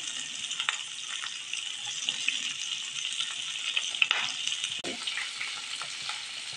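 Onion and chillies fry in hot oil, giving a continuous bright sizzle close by. A few faint stirring scrapes and a sharper clack about two-thirds through sit over the sizzle, with no speech.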